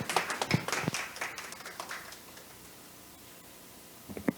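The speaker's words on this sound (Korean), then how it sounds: "박수로 맞이해 주시기 바랍니다" Scattered audience clapping at a Korean obesity society research seminar welcomes the chairman. It is brief and fairly quiet, thins out after about two seconds, and a couple of faint claps return near the end.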